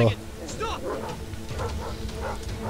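Dogs barking in Thief 4, a few short, moderately distant yips and woofs under a voice talking.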